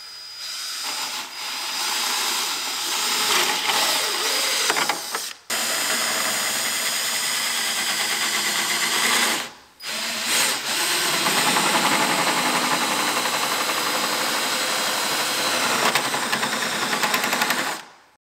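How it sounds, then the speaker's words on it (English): A power drill with a hole saw grinds steadily and loudly through an equipment trailer's winch mount in long continuous runs, stopping briefly twice before starting up again. "we're just gonna take a hole saw and drill it out"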